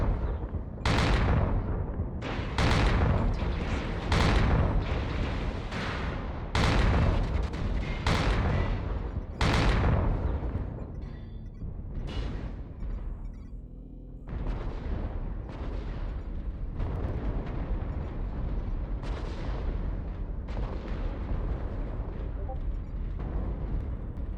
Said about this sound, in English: I take some pot shots at the assault lance as they advance to the center